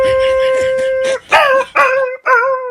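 A person imitates dogs howling sad songs, with several drawn-out, wavering vocal howls. Each rises and falls, separated by brief pauses, loud and close.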